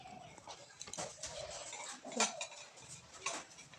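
Metal puja plates being washed and scrubbed at an outdoor tap, with light clinks and scraping of metal on metal in short irregular bursts, fairly close, a bird calling faintly in the background.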